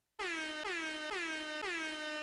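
An air horn blasts loud and close in four sustained, repeated honks, each sliding slightly in pitch, alone without talk.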